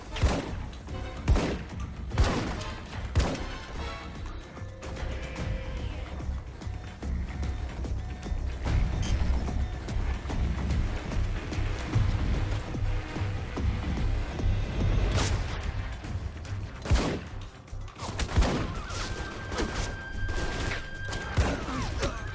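Scattered gunfire and thuds from the video game Alpha Protocol, irregular shots and impacts over a steady background, with brief electronic tones and no talk.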